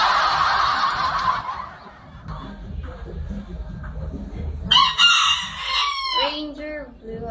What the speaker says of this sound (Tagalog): Papansin yung manok gusto yata din mag-live.